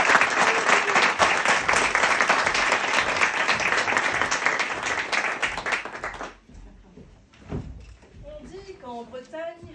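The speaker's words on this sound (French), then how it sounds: "Et on peut les applaudir bien fort, s'il vous plaît." Audience applauding an improv theatre team at a benefit evening, a loud dense wash of clapping for about six seconds that then breaks off, followed by a quieter stretch with a thump and a few voices speaking.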